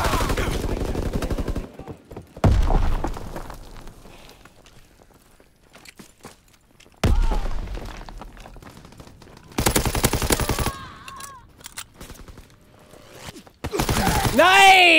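StG 44 assault rifle fire in a Call of Duty WWII multiplayer match, loud bursts and sustained automatic strings, broken up by quieter stretches with footsteps and game effects.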